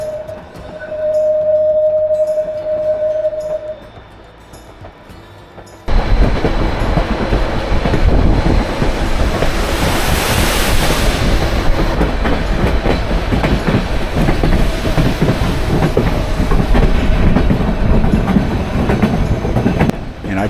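A train climbs along cliffs near Skagway, Alaska, with a faint whistle-like tone at first, then a sudden loud, continuous roar of wheels and clickety-clack on the rails that rumbles on steadily.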